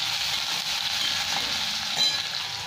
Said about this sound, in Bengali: মশলাটা ভাজা হয়ে গেছে, একটুখানি পেঁয়াজ দিয়ে দিলাম